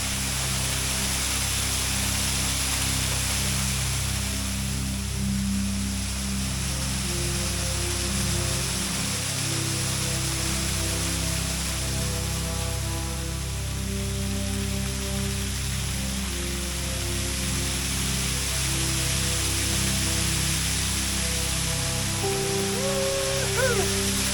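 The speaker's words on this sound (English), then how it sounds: "Absolutely beautiful waterfall." Waterfall running full in a cold, snowy cave with icicles near Sewanee, Tennessee, a loud continuous rushing roar with a steady hum underneath, constant and close throughout.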